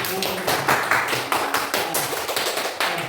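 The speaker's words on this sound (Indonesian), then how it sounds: "tepuk tangan untuk semua" Students in a classroom clap together for the groups after a discussion, producing a steady, fairly loud patter of hands with some rhythmic accents and voices underneath.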